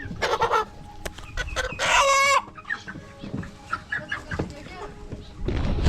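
A rooster at a village market at the edge of the Sundarbans crows loudly once and clucks repeatedly at close range, amid bustling market voices and people talking.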